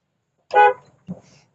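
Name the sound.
car horn honking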